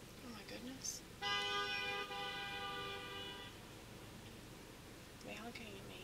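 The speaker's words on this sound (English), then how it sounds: "Are they honking at me?" A car horn honks a single sustained blast of a little over two seconds, moderately distant, against steady road noise, with faint voice sounds before and after it.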